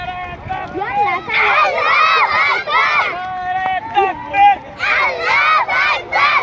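A large crowd chants the slogan Naraye Takbir, many voices shouting together in loud, repeated bursts separated by short pauses.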